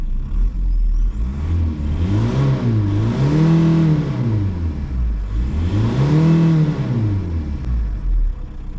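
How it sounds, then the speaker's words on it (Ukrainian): A VW Bora 1.9 TDI diesel engine being revved twice while parked, each rev rising smoothly in pitch then falling back to a steady idle, loud and close with no talking. "Давайте газанемо."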